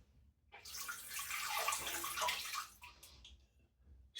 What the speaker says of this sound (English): I'm just going to drain this water out the sink.